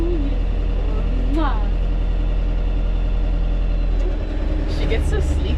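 A tractor engine hauling a big rock downhill over bumps, a loud steady rumble running throughout, with a voice talking over it and a brief shift in the engine near the end.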